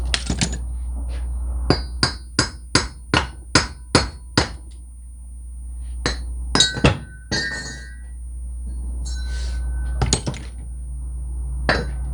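A hammer strikes a weld on a Yamaha Grizzly 90 axle carrier housing. About a dozen sharp, ringing metallic blows land in a steady rhythm, followed by a few scattered, irregular hits, close and loud over a low background hum.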